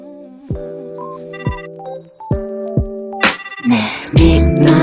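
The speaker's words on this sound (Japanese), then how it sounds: "電話だ" A phone ringtone chimes inside a song, a bright repeating melodic tone in four spaced rings before music and rustling noise take over near the end.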